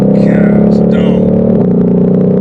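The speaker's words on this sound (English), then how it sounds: "those shifts you hear are just lightning quick. There's no torque interruption during the shifts" A 2020 Shelby GT500 engine holds a loud, steady, droning roar and drops pitch once on a single lightning-quick gear shift partway through.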